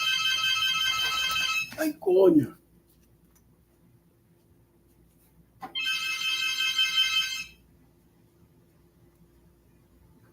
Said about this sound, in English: the phone is ringing, so let's pick that up